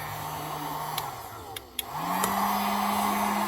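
Heat gun blowing steadily on a heat shrink butt connector joining a black wire during a Stihl 201TC conversion; a continuous close-up hum that dips briefly midway before resuming, with a few faint clicks.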